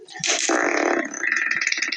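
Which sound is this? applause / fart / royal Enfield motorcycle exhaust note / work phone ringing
fart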